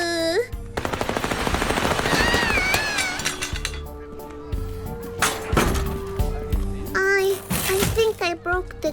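Rapid machine-gun fire with real bullets in the video game Little Misfortune, loud bursts early on, followed by clinks, breaking sounds and a voice speaking over the game audio.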